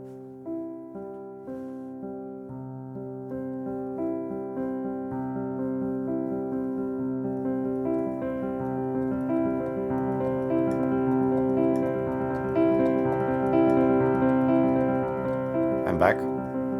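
Piano passage that starts with slow, spaced notes and gradually speeds up into faster, denser playing, sustained tones ringing under the notes, with a brief sharp knock near the end.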